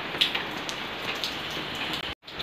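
Steady rain falls and patters on surfaces in a continuous hiss with scattered drop ticks, fairly close, with a brief dropout near the end.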